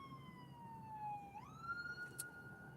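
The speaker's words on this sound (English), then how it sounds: "ambulance." Ambulance siren in Nashville, Tennessee, a steady wailing tone that dips and then climbs again, fairly distant and faint over low traffic rumble.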